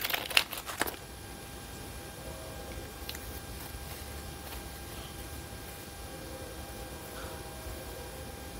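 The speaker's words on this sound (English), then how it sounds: "Let me see if I can unwrap this for you." A roll of masking tape is unwrapped from its plastic packaging, with a brief burst of close crinkling at the start followed by near silence and faint rustles.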